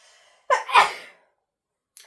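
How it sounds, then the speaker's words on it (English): A single close, sharp sneeze, a quick inhale bursting into an explosive release, followed by near silence. "and I have to sneeze."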